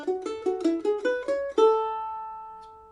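A mandolin picks a short phrase from Monroe's Hornpipe, a quick run of bright, distinct notes that ends on a single held note ringing out and fading, played alone and close.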